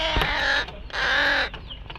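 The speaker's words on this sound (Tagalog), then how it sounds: "Mga uwak." Two loud, harsh caws from a crow ring out close by, each drawn out, with a brief pause between them.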